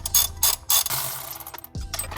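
A hand ratchet loosens 14mm bolts on the transmission mount of a Z car, giving rapid bursts of close, loud metallic clicking broken by short pauses.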